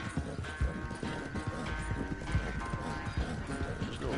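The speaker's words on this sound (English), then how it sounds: "I'm on a horse." Horse hooves clip-clop steadily at a riding pace in the Red Dead Redemption 2 video game, a close, busy rhythm of hoofbeats that goes on without a break under a low rumble of movement.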